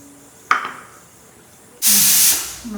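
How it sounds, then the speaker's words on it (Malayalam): A pressure cooker whistle in a home kitchen, heard as a sharp hiss followed by a loud, sustained burst of steam that fades out, alone and close by. "കുക്കറിൻ്റെ വിസിൽ വന്നിട്ടുണ്ട്"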